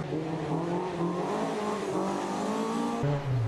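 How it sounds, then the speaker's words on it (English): Ford Escort rally car at a rally sprint, engine revving hard and rising in pitch as it powers through a bend, with a gear change near the end, loud and close. "Here we have the Ford Escort again."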